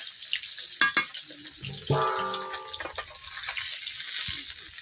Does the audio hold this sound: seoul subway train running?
no